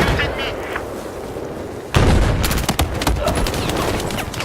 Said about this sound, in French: À l'ouest de votre position, mitrailleuse ennemie.